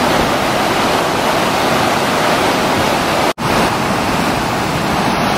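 A waterfall pours into an inlet above Shadow Lake, a steady, loud, broadband roar close by that fills the whole clip with only a momentary dropout.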